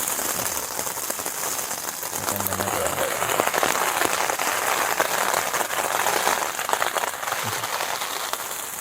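Rain falling on a tent at a hillside campsite at night, a dense, steady patter that continues without a break throughout.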